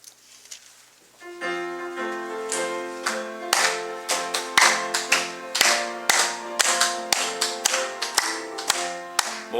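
A church congregation claps in a steady, even rhythm to an organ or piano accompaniment of a hymn during a Sunday morning service, the sharp claps growing louder after a quiet start.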